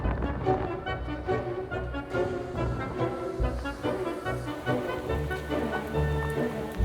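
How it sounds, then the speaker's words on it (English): Steady rain falls in Palermo, Sicily, hissing on surfaces with a constant wash and scattered drips, mixed with a tonal hum and some background noise throughout. "It rains a lot."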